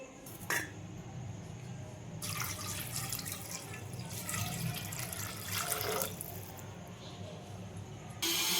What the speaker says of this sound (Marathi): तर आपल्याला हे चिकन मस्त चकचक 2-3 पाण्याने धुवून घ्यायचं आहे।